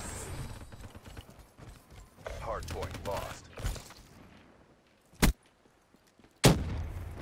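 Gunfire in the video game Call of Duty: Black Ops III: two sharp, loud bursts ring out about a second apart after a stretch of muddled game noise and faint muffled voices.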